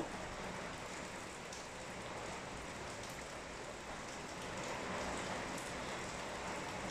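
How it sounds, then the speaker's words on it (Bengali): Steady heavy rain pours down continuously, a dense broadband hiss of drops on surfaces with no voices, holding even throughout. "আজকে বাহিরে অনেক বৃষ্টি হয়, বাহিরে চুলাতে রান্না করার মতো ওই পরিস্থিতি নেই।"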